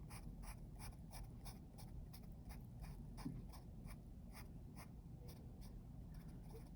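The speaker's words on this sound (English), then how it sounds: "So let's draw our picture for photosynthesis. Draw a sun here." A pen or marker drawing a sun on paper, with quick repeated strokes scratching rhythmically and close against a steady low hum, no one speaking.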